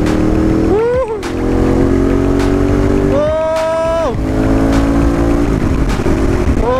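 A Ducati 848 Evo motorcycle engine revs and pulls hard through the gears, its loud, close roar climbing in pitch, dropping briefly at each shift, then rising again.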